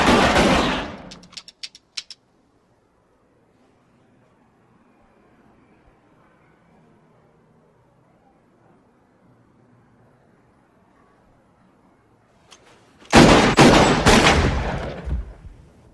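Gunfire from a hand cannon in a crime film scene: a loud roaring volley opens, a few scattered sharp shots follow, then near silence before another heavy, sustained burst of fire erupts near the end.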